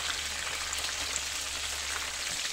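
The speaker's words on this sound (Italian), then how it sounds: "nello stesso olio in cui sto friggendo i peperoni" Red and green southern Italian peppers fry in oil in a pan, giving a steady, dense sizzle with a rain-like crackle that runs evenly and close throughout.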